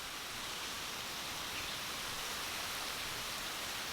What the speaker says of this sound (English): Just really, really heavy rain